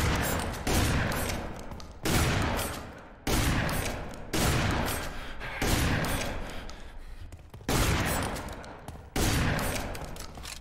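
Shotgun blasts in the video game F.E.A.R. 3, about eight heavy booming shots at irregular intervals of one to two seconds, each followed by a long decaying tail.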